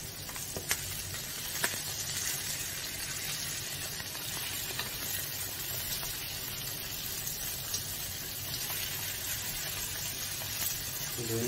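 Fish pieces fry in a pan for a Malvani fish fry, giving a steady, close sizzle throughout with a few sharp crackles and pops and no talking.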